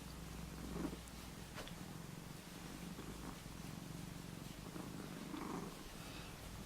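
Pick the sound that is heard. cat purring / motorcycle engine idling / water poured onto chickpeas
cat purring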